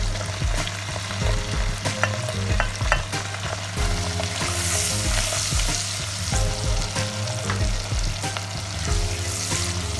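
Chopped red onions fry and sizzle loudly in a pan with anchovies, with steady crackling throughout and repeated scraping stirs of a utensil for a Ghanaian red red stew.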